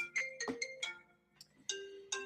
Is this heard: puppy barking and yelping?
no